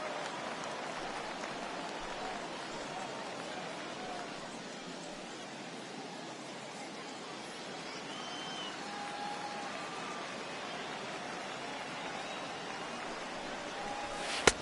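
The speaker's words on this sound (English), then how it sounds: "Really starting to pour now, and the forecast is not showing any signs of a break in the weather." Heavy rain falls steadily on a baseball field in the MLB The Show 18 video game, a constant hissing downpour that stays even throughout and ends with a single sharp tick.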